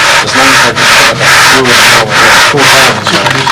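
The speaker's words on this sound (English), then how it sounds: "Now take it over to the sandpaper, and just press down where it's hitting hard." A wooden carving is rubbed back and forth on sandpaper in loud, close, rhythmic sanding strokes, about seven passes with brief gaps, with no talking.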